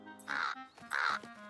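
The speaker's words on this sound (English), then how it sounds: "That was a big bird." A large cartoon bird gives two loud, harsh cawing calls, each about a third of a second, separated by a short gap, clear and close with no talk over them.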